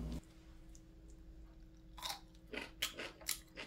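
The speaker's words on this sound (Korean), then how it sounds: "오이가 아삭아삭하고 짜지도 않고 정말 맛있어요." Crunchy oi sobagi cucumber kimchi is chewed close up, starting with a quiet pause and then a cluster of crisp, wet crunching bites in quick succession.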